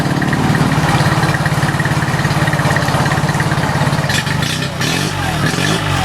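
A boat outboard engine idles steadily up close in a loud, even mechanical rumble with a pulsing rhythm, dipping briefly near the end before settling back.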